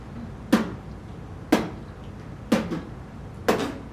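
A performer beatboxes a kick drum meant to mimic a very large drum, making four close, punchy mouth thumps evenly spaced about a second apart with no other sound between them.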